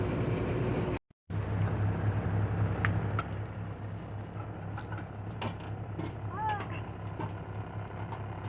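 A running truck engine makes a closet inside the truck vibrate, producing a steady low droning hum with a faint rattle, broken by one brief dropout and some faint higher sounds near the end.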